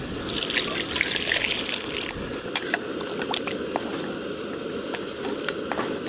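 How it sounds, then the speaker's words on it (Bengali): Water pours into a pot of home-style atap rice khichuri cooking with winter vegetables, a steady close splashing trickle with a few small clinks, and no one speaks. "জল কমে গেছে, একটু জল দিয়ে দেব।"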